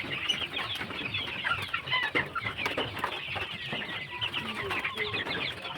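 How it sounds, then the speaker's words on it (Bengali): Chickens clucking continuously at close range, a dense overlapping chorus of hens on a farm with steady bird chatter throughout. "মুরগিগুলো যে দেখতেছেন"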